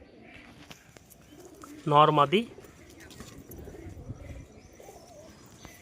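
Pigeons kept for sale, a pair of male and female flying birds, give a brief burst of cooing near the middle, close by, while someone talks before and after.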